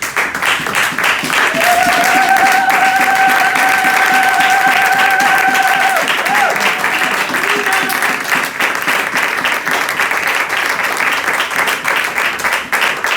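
A church congregation at a Sunday service applauds loudly and steadily, a dense wash of clapping that lasts the whole stretch, with a sustained sung or called tone rising above it for a few seconds.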